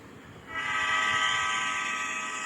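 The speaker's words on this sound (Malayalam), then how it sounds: "എന്നിട്ട് കുലുങ്ങണ ട്രെയിനാ" A train rattles and shakes along the track on an Indian rail journey, steady rumble under a long loud horn blast that rises and holds, with no talk.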